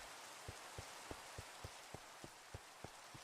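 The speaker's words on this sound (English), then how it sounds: "Rains more in the new update, says Cosmic." Rain falls steadily in a video game, a soft constant patter with evenly spaced faint thumps repeating about every third of a second.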